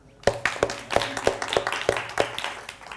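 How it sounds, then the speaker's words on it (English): A small crowd at a Mumbai workplace productivity talk starts clapping in a few slow, distinct claps spaced evenly, close and fairly light, with background murmur beneath. "So let's start with a round of applause,"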